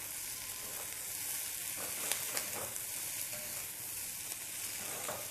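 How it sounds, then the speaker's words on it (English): Grated coconut frying in a pan with masala for vangibath, a steady close sizzle with a few soft stirring clicks throughout, no talk. "allow it to fry once again till the coconut fries"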